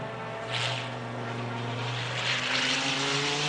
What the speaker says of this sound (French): Écoutez le bruit de V10 incomparable.